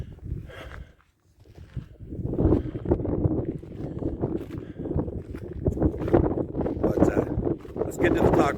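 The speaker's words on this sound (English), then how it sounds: "The wind is kicking. You can probably hear it every once in a while." Wind blows across a high summit trail on Mount Evans in Colorado, a continuous gusty rumble of microphone buffeting, loud and close throughout, with a brief lull near the start.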